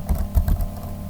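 A handful of quick keystrokes on a computer keyboard, soft close-up taps in a brief burst with no voices.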